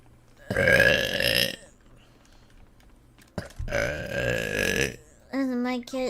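Two long, loud, deliberate burps about a second each are separated by a quiet gap and a small click, followed by a short sung, wavering vocal sound; a voice is present alongside.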